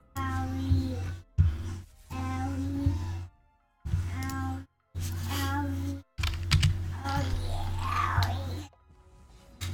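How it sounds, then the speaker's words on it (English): Rapid keystrokes on a computer keyboard, close and brisk in short bursts separated by brief pauses, with a steady low hum and some tonal background sound running underneath. "I just type quickly"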